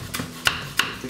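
A knife cuts chili pepper into rings on a board, making three sharp, close chops spaced evenly over about a second with no talking.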